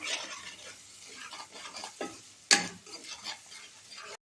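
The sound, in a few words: spices and ginger garlic paste frying in oil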